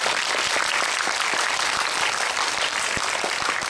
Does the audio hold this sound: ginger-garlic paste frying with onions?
no